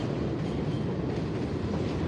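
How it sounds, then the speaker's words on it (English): A New York subway W train rumbles steadily past at close range, a continuous low roar of wheels on rails with faint clatter. "Hey, that's a W train."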